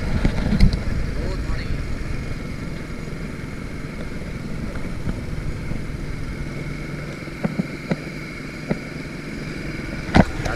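A motorcycle carries riders out toward a fishing spot at Bulabog, its engine droning steadily throughout with a few sharp knocks and bumps along the way.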